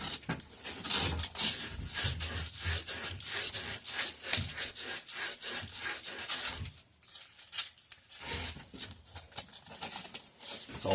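A copper pipe fitting is scrubbed shiny before sweating solder, giving steady, close rasping and rubbing strokes in quick repeated bursts, with a short pause midway before the scrubbing resumes.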